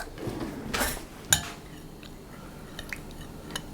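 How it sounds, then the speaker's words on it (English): Spoon scrapes and clinks against a bowl while stirring dark rum into syrup, one clear clink followed by a few light taps. "I'll just give that a quick stir and set it aside"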